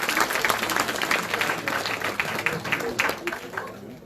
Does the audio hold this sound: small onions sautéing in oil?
no